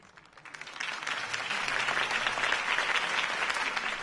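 A crowd in the video game Batman: The Telltale Series bursts into applause, clapping building quickly from quiet to a loud, sustained roar of many hands.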